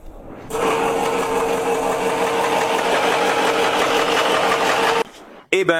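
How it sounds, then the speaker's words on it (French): Boat diesel engine turning over and running with a loud, steady, clattering drone for several seconds, then cutting out abruptly, followed by a brief burst of other noise. "cela ressemblait à un diesel bruyant et claquement"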